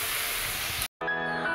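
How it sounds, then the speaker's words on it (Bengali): Onion, dried chilli and nigella seeds sizzle in hot oil for a fish curry, a loud steady hiss that cuts out briefly and resumes with a crackling, bubbling texture. "মাছের ঝোলের জন্য পেঁয়াজ আর হচ্ছে কি শুকনো লঙ্কা কালো জিরে ফোড়ন দিয়ে দিয়েছে"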